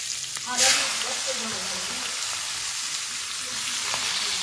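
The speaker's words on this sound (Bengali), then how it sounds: "পেঁয়াজটা এবার ভেজে নিচ্ছি গোল্ডেন ব্রাউন করে" Chopped onions frying in hot oil with whole spices — bay leaf, dried chilli, green and black cardamom, cinnamon and cloves — give a steady close sizzle and crackle, with a brief louder burst near the start.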